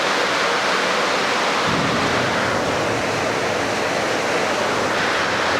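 Heavy rain pours with rumbling thunder during a storm at a house with a leaking roof, a loud, dense, unbroken roar of rainfall throughout.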